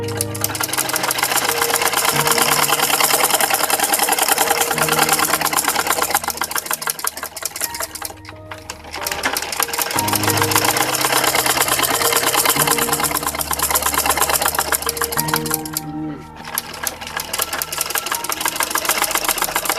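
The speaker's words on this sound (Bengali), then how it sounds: "আর নিচের কাপড়টা একটু সামন দিকে টেলা রেখে ধাক্কা দিয়ে আমি সেলাই করে নিচ্ছি।" A sewing machine stitches a baby skirt in loud, rapid mechanical bursts, running for several seconds, pausing briefly twice, then resuming, with no talk.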